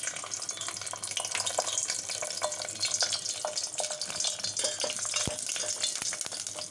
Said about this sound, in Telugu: కిస్మిస్లు అందుకని లాస్ట్గా వేయించుకోవాలి.